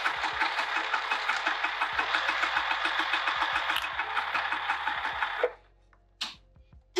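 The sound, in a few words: sewing machine stitching fabric coaster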